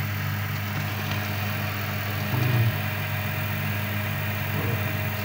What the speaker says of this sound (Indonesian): ini mesin yang kulkas yang kemarin ya, yang udah kita review tuh, mesin Panasonic, mesin kulkas tuh 1/8 PK ya.